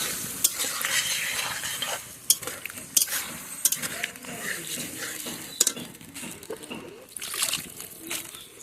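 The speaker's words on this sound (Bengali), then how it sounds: "এবার অল্প জল দিয়ে একটু কষিয়ে নেব।" Egg curry masala sautéed in a pan with a little water, spatula scraping and clattering against the pan in irregular bursts over a steady sizzle.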